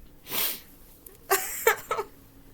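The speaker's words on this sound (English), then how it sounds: "Oh, I gotta sneeze." A person sneezes partway through talking, a breathy burst followed by a couple of quick, sharp snorting bursts close to the mic, standing alone with no words spoken.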